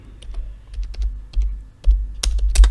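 Quick bursts of keystrokes on a computer keyboard, close and crisp, with short pauses between runs and a few louder clacks near the end.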